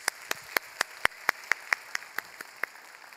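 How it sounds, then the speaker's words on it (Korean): Applause during a Korean church youth worship service: sharp, evenly spaced claps at a steady rhythm, fairly close and distinct, with no talking over them. "박수로 하나님께 영광 돌리겠습니다."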